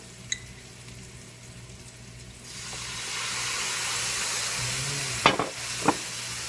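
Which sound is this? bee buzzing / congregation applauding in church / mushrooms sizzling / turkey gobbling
mushrooms sizzling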